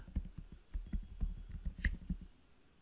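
A root account password being typed on a computer keyboard while installing CentOS Stream 10 in VirtualBox: a quick run of close, crisp key clicks in an uneven rhythm, with no voice over them.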